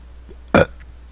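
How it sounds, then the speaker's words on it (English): A single short, loud burp from a person, standing alone in an otherwise quiet moment. "excuse me for that burp"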